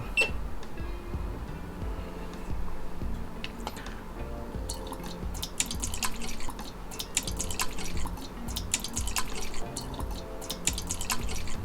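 Orange juice is poured into a measuring cup for black coffee with orange juice, making close, irregular dripping and trickling with small clinks throughout.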